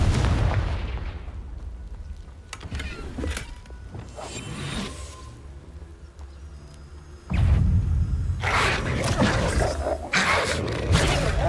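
Confringo spell blasts in Hogwarts Legacy boom with heavy, low rumbling impacts, loud and close, one near the start and a stronger one later, among game effects.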